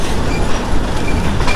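An old-style train in Tenom, Sabah, rolls past loudly and close by, with a dense rattling clatter of wheels on rails.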